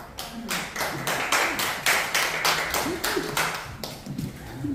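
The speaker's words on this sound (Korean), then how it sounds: "박수로 다시 모시겠습니다" Audience claps to welcome a speaker at a church teachers' training session, a lively, fairly close round of rhythmic clapping with faint voices underneath.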